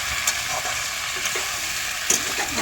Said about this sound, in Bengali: কাঁচা রাঁধুনিটা দিয়েও একটু আমি কষা করে নেব